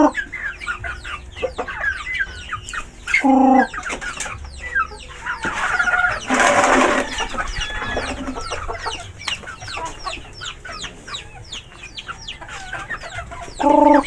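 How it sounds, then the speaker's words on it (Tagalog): Pet chickens cluck busily around feeding time, with repeated short clucks and a few louder calls close by, steady and lively throughout with no one talking. "papakain dyan ng manok"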